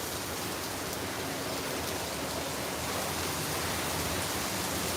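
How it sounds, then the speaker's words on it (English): Heavy storm rain and ripping wind gusts pour down in a dense, unbroken hiss, loud and close, with no pause throughout. "wind is ripping right now, dude"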